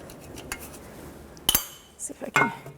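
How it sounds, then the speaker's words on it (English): Oil pan bolts on a 2006-2012 Toyota RAV4 are taken out by hand, giving sharp metallic clinks and rattles, one bright strike midway and a cluster of clatter near the end, against a quiet background. "So I'm going to take the remaining bolts out by hand."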